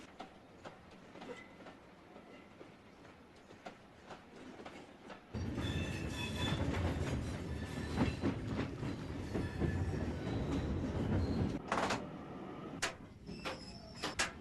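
Passing train on a railway, heard from aboard another train, starting as a quiet interior hum, then jumping into a loud, close rushing roar with rattling and clattering for several seconds before easing off near the end.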